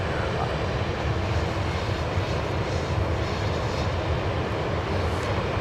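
A jet airliner takes off from runway 13 Left at Dallas Love Field, giving a loud, sustained engine roar that holds steady throughout with no talk.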